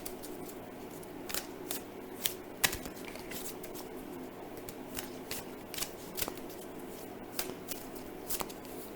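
Tarot cards being shuffled by hand during a reading, a steady riffling and sliding with sharp snaps every second or so, close and fairly quiet over a soft room hum.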